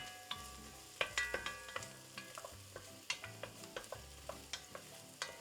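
Onions sauté quietly in a skillet for Algerian hariri, softened toward translucence. A faint, low sizzle sits under irregular clinks and scrapes of a utensil against the pan. A soft ringing tone lingers in the background, and no voices are heard.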